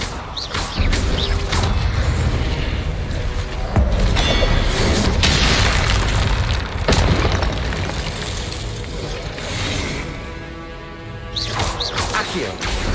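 Spell blasts in Hogwarts Legacy, including the Confringo blasting spell: a series of loud booming explosions and crashing bursts, close and dense, with whooshing effects between them.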